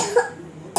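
A child with flu gives a short, sharp cough up close, followed by the start of another burst.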